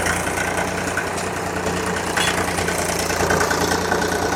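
A Mahindra tractor fitted with a nine-tine plough idles nearby, a steady loud diesel rumble with an even mechanical clatter that holds constant throughout, no voices.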